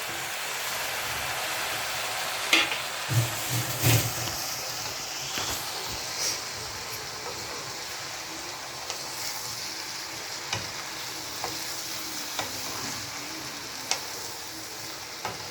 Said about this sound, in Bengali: এবার আমি সবজিটা ভালো করে নেড়ে নিয়েছি